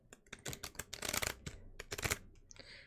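Tarot cards being shuffled at close range in a quiet room, a series of quick, crisp riffling and flicking bursts with brief pauses between them, with no voices.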